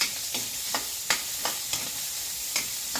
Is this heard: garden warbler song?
no